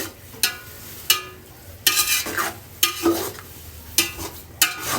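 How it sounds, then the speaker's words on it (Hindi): Masala stirred and fried in a pan for vegetable pulao, with loud repeated scraping strokes of a spoon against the pan over a steady sizzle, close and rhythmic, with no talking. "उसके बाद हम इसको सही से मिक्स करेंगे।"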